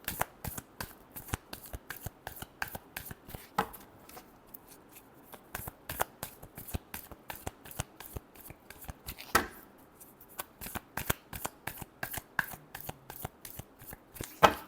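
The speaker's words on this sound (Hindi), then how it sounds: "last shuffle" Tarot cards are shuffled rapidly by hand, a dense run of crisp riffling clicks up close that keeps going throughout without speech.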